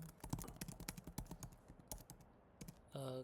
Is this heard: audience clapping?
no